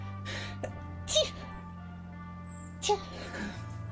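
Two short, sharp sneezes about two seconds apart, close and fairly faint, over a steady background hum.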